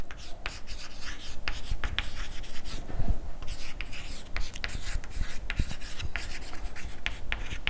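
Marker or chalk writing on a board during an organic chemistry lesson, steady scratchy strokes in quick bursts, close and fairly loud, with no talking over it.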